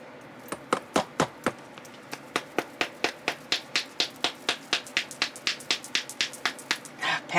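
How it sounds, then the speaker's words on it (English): An upside-down bottle pounded on the metal part of a brace, giving a steady run of about two dozen sharp, fairly faint knocks at an even, quickening pace with no talking. "Pounding it on my brace, the metal part of my brace."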